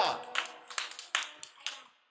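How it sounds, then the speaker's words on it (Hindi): Applause from a group of children in a classroom, with scattered uneven claps in short bursts, fairly close, under an adult voice speaking. "जोरदार तालियां, जोरदार तालियां।"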